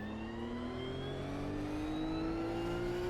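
A Toyota GR Supra GT race car engine at Fuji Speedway in the Automobilista 2 racing game, with a steady, loud, buzzing drone that climbs slowly in pitch as the car accelerates, with no voices.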